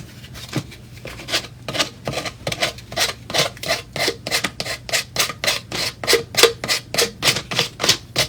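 Rhythmic sanding strokes scraping paint off the front of a DIY lamp, steady rasping back-and-forth passes roughly twice a second, close and fairly loud with no talking.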